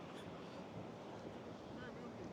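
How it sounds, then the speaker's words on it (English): Ocean surf rolling into a sea cave on an Irish beach as the tide comes in, a steady dull roar of water with wind noise buffeting the microphone, fairly faint and continuous. "the waves have started coming in around me"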